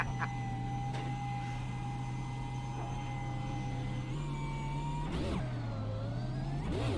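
A racing car engine in a sim racing game at Martinsville holds a steady, loud drone, then the pitch rises and dips as the throttle is worked, with no talk over it.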